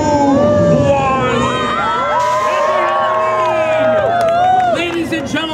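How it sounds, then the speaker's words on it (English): A large crowd at a Halloween Haunt show at Canada's Wonderland screams, whoops and cheers loudly and continuously, shrill voices overlapping in a dense roar, with a voice calling out at the start. "suggest you scream really loud for Mysterion"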